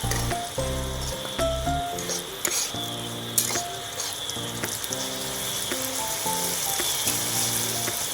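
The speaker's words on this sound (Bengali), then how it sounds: "আর এদিকে আদা রসুনের পেস্টটাও ভালো করে কষিয়ে নেওয়া হচ্ছে" Ginger garlic paste frying in a pan while potatoes cook alongside, a steady sizzle beneath clinking utensil scrapes and stirring, with prominent tonal music running through it.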